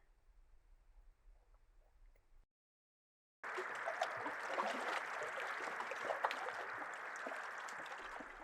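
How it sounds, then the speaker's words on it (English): Lake waves lapping with wind blowing, a steady broad wash of water and air noise that starts abruptly after a quiet gap, with softer low rumbling water sound at the start. "The sound of lake waves and wind."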